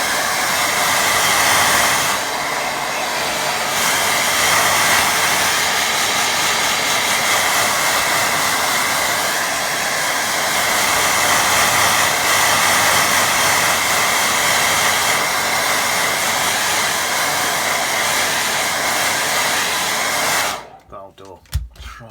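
A hair dryer blows steadily on a watercolour painting of a lake and rocks, a loud continuous whoosh that runs almost unbroken for about twenty seconds before cutting off abruptly near the end.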